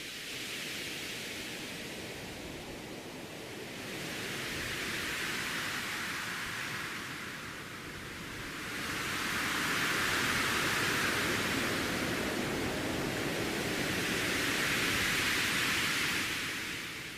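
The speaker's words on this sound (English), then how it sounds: "it kind of naturally somehow sounds like waves at the beach" Synthesized drone of pink and white noise, swelling and receding in slow, broad surges like beach waves, steady and fairly loud with no voices.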